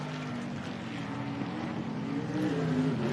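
An unevenly running racing powerboat engine at the Don River Dash race, a steady mid-distance drone with uneven pulses and a rough, stuttering tone.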